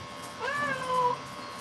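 A cat being groomed with a lion cut gives two short, drawn-out meows close by, the second slightly longer, against quiet room background.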